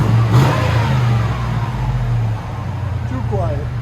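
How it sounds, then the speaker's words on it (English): A 2005 Cadillac Escalade with a 6.0L V8 and a Dynomax turbo muffler revs close by, its deep exhaust swelling and then easing into a steady rumble, while a voice talks over it. "Super turbo DYNOMAX. Better? Too quiet?"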